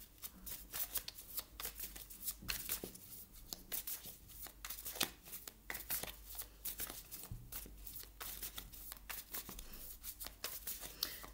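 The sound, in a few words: shuffling tarot cards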